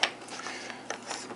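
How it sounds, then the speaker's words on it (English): A whipped cream dispenser is screwed onto its gas charger, giving a quick run of faint ratcheting clicks and small mechanical ticks, close and quiet. "Now I'm gonna screw on the dispenser."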